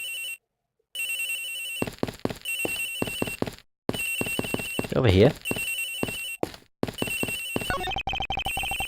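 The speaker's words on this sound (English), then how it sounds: "Agent Hicks' phone, it's ringing from somewhere, sir." A telephone rings repeatedly in the Ace Attorney Investigations: Miles Edgeworth video game, a bright electronic trill that repeats in bursts. Game music and sound effects run alongside it, and a voice speaks briefly in between.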